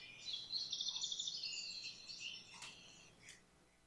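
A more complex song sparrow song, a run of rapid high trills and chirped notes for about three seconds, then a few isolated sharp notes, moderately near with no voices.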